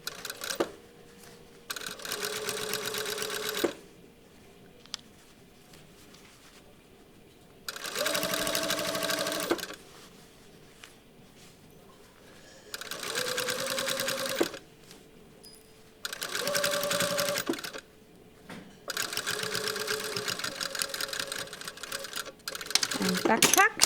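A sewing machine pin-stitching a cuff onto a shirt sleeve, running in several short bursts of rapid whirring with quiet pauses between them.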